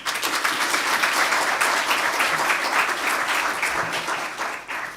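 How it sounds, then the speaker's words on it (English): Audience at a stakeholder conference session breaking into a sustained round of applause, dense clapping filling the room at steady loudness for several seconds with no talking. "Can we have a round of applause,"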